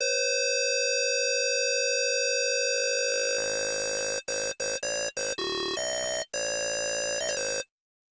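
FM synth tone with its feedback waveform set to a square, starting as a thin steady pitch, then turning into a dense, buzzy, harmonic-rich drone that stutters with several sharp cutouts before stopping.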